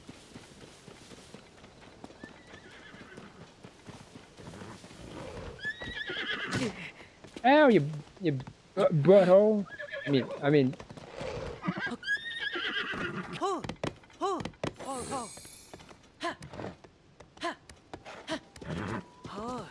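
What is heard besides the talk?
horse neighing and galloping in video game Zelda Tears of the Kingdom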